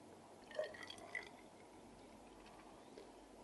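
Liquid poured into a laboratory test tube during a chemistry oxygen partial-pressure measurement, a brief soft trickle and a few faint drips early on, then quiet.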